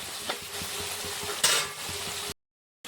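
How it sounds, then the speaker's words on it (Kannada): Tomatoes frying in a pan until soft for a soybean gravy: a close sizzle with rhythmic scraping strokes and one louder splattering flare partway through, then a sudden cut to silence. "ಇವಾಗ ಟೊಮೊಟೊ ಕೂಡ ಮೆತ್ತಗಾಗೋ ತನಕ ಫ್ರೈ ಮಾಡ್ಕೊಳ್ಳೋಣ"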